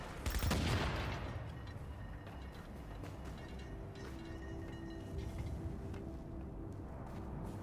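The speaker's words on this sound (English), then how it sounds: "Shoot the bomb so he can climb the ladder." Gunfire in The Division strikes a bomb: a loud burst of shots up front, then a lingering rumbling, mechanical game ambience with scattered clanks and a steady hum.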